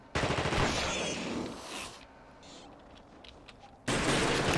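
Loud, dense video-game gunfire with rapid shots for about two seconds fades into quieter rumbling and scattered sounds before another heavy burst erupts abruptly at the end.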